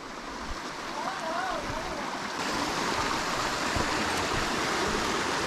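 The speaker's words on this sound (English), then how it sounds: "First waterfall." A waterfall on Placerita Creek in Placerita Canyon makes a steady, moderate rush of flowing water outdoors, with a brief faint whistle-like bird call early on.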